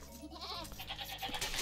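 Goats bleat in the strategy game Age of Empires II, a few short wavering calls heard faintly over a busy in-game background.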